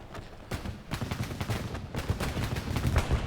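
Gunfire and explosions in the video game Hell Let Loose, a dense ongoing battle of rapid shots and bursts building in loudness, with no talk.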